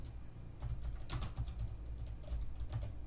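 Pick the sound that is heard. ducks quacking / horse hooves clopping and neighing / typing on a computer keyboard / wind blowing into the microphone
typing on a computer keyboard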